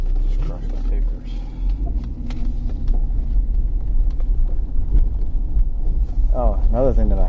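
A 2001 BMW X5 with the 3.0L engine, showing misfire and catalyst efficiency codes, drives along with a low, steady engine and road rumble heard from inside the cabin, and a voice briefly speaks near the end.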